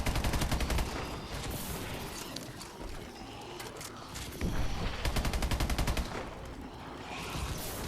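A weapon fires in Call of Duty Exo Zombies in rapid automatic bursts, with strings of sharp shots separated by short pauses, mixed with game effects at a fairly low overall level.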